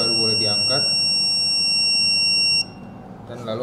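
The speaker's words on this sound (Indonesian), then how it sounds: "Nanti setelah buzzer berbunyi" A measuring device's buzzer sounds a steady, loud electronic tone lasting about two and a half seconds, then cuts off, with people talking faintly underneath.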